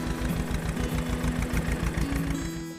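A tractor engine chugs steadily at idle in a Hindi comedy story, a close, even mid-pitched rumble with a faint tonal whine, running alone and easing slightly near the end.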